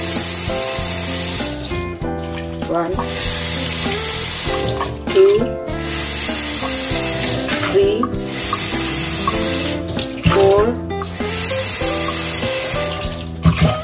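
Water poured from a glass into a pot of rice for cooking, in several separate splashy pours with short gaps, loud and close over background music while someone counts aloud.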